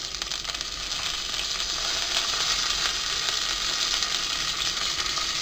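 Urad dal, red chilli and curry leaves sizzling in hot oil, a loud, dense, unbroken crackle that stays close and even throughout, with no speech.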